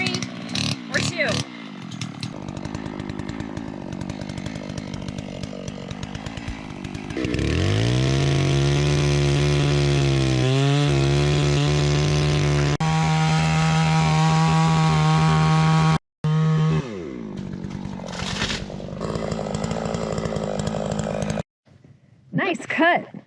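A chainsaw fells a tree outdoors, revving and bogging into the cut for a long stretch with pitch dips under load, then dropping off, with people talking around it.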